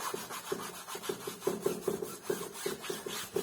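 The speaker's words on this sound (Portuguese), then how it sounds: "Aqui eu vou esfregando, vou tirando de onde eu botei demais." Brush rubbing and scrubbing paint into a canvas while toning it for a townhouse painting, a steady rhythmic back-and-forth rasp at close range, fairly quiet and with no talk.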